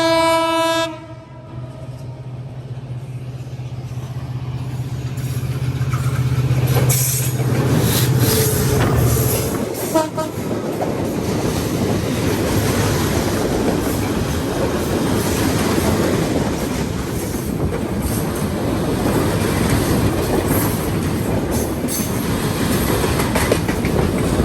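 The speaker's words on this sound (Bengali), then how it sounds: "এই পাশে এই যে ট্রেন চলে আসছে, একদম পুরো শরীর এখন কাঁপাই দিবে" A train rolls past close by while the listener stands on a bridge: a long sustained horn blast opens, then a loud, steady rumble and rattling clatter of wagons continues to the end, with no talking.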